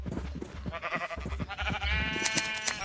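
Sheep in the video game Minecraft bleat several times in quick succession, clear and fairly close, with a few short clicks near the end.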